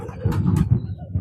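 Scissor-winged pigeons from Shahtakhti village in Nakhchivan coo at a Khirdalan pigeon club, soft low throaty calls repeating close by with a couple of wing flutters.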